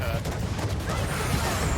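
Orbital barrage strike in the game Evolve, with a dense, rumbling fusillade of rapid booming impacts that runs continuously, loud and heavy in the low end.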